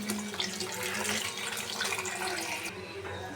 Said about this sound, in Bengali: আমগুলো ধুয়ে নিই,